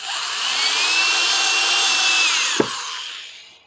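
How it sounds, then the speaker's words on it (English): A power drill bores a pilot hole into a board for a homemade wooden egg rack, a steady whining drone building to one sustained run that ends with a sharp knock as the bit breaks through, then winds down. "Papa's lined up and he's fixing to drill us our first hole here."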